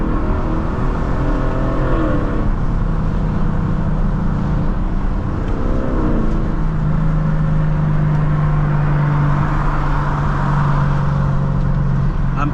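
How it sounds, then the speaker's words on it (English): Inside a Lexus LC 500, the engine drones loud and close, with rising revs and blipped downshifts that swell and fall over steady road and cabin noise. "Just gonna get some interior good LC noises."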